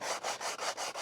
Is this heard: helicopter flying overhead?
no